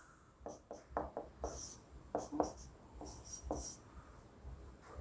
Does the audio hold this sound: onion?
no